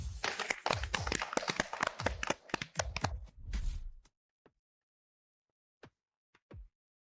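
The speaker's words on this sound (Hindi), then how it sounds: "आइए, हम तालियों की गड़गड़ाहट के साथ उपस्थित सभी जजों का फिर से स्वागत करें।" An audience bursts into loud, thick clapping to welcome the judges at a formal event. It holds for about four seconds, stops abruptly, and then a few scattered lone claps sound in the quiet.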